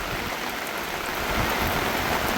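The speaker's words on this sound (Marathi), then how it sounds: "पाणी वाढलंय आणि तुफान पाऊस पडतो" Heavy rain pouring down in rural Konkan, a dense, continuous hiss of downpour, loud and close, with no talking.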